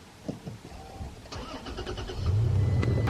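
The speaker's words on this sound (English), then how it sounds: "I'm gonna start the engine." A Toyota Tacoma truck engine cranks with a few clicks and a whirring starter, then catches and settles into a loud, steady low idle.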